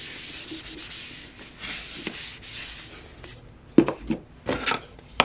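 A cup is wiped clean with alcohol, making soft, close cloth rubbing and squeaky wiping strokes, first gentle and continuous, then sharper, louder rubs near the end.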